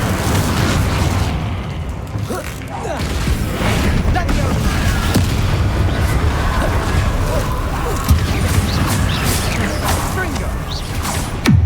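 Spell explosions and blasts from combat in Hogwarts Legacy, a dense, loud wash of booms, bursts and pops layered over continuous game noise, with a voice calling out spell names throughout.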